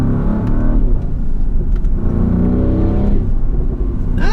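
An Audi RS Q8 from 2020 revs hard and loud, the engine surging and falling while small exhaust pops and crackles burst near the end.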